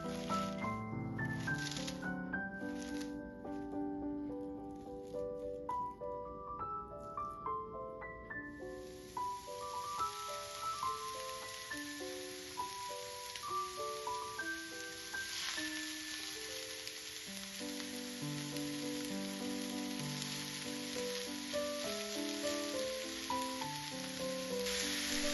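Gentle background music plays throughout; partway in, a steady frying sizzle from cabbage in a pan rises and continues beneath it.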